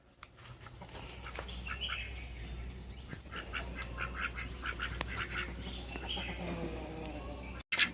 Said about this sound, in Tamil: இந்த வாத்துங்க தொல்லை தாங்க முடியலப்பா